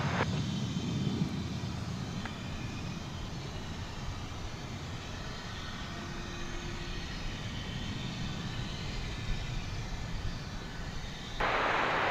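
A jet airliner taking off from runway 36 right at DFW Airport gives a steady, broad engine roar that holds at an even loudness throughout, with no talk over it.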